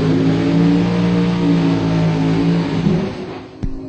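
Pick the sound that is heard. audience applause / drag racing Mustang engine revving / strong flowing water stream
drag racing Mustang engine revving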